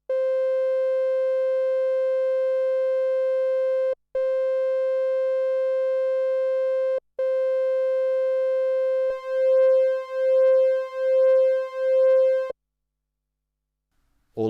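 A triangle-wave tone from a Behringer K2 or Korg MS20 analog synthesizer: a steady, pure-sounding held pitch broken by two brief gaps, then pulsing in four even swells before it cuts to silence.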